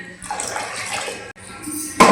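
Tamarind, salt and chilli water poured into a pot of yam tamarind curry, a steady splashing pour running for about two seconds with a short break and a louder splash at the end.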